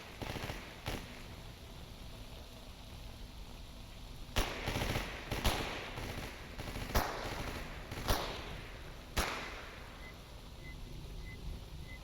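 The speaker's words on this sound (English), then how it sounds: "What are you all shooting at right now?" In the shooter STALKER: Anomaly, a handful of sharp, distant gunshots crack out at irregular intervals over a constant windy outdoor ambience, each shot brief and loud against the steady rumble.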